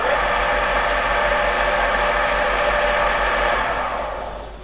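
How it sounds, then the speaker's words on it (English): The electric motor of a Creed 7B Mark 1 teleprinter whirs steadily close by with a rhythmic mechanical chatter, running for several seconds before winding down and fading. "So I'll start up the motor."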